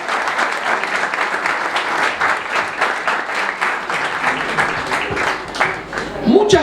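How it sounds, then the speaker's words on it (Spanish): Sustained audience applause, a dense, even wash of many clapping hands that continues throughout, with a voice briefly breaking in near the end. "Un aplauso."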